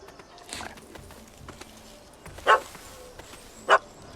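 A dog barks in The Witcher 3: Hearts of Stone, two short sharp barks spaced about a second apart at middle distance over quiet ambient game sound and faint thuds.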